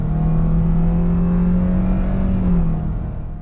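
A 2021 Toyota Avanza accelerating hard from a standstill in an acceleration test, its engine droning with a rising steady tone, close and loud, easing off at the end.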